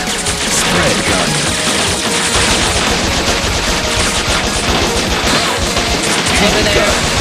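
Spread gun fire in the Bot Vice game comes as loud, dense, continuous volleys of rapid shots and crashing impacts, sustained for several seconds, with a voice faintly audible under the barrage.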